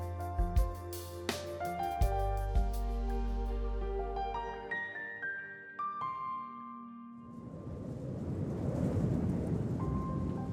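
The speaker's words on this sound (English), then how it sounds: "The wind howled and the storm clouds kept rolling in" A storm builds with thunder as a deep, heavy rumble under sustained tonal notes, then gives way to a broad, rushing wash of wind and rain that swells toward the end.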